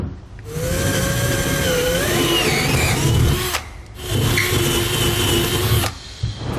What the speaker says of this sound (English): I'm just going to mark my 2 hole locations there with the 3/8 inch bit. Then we can get them drilled out.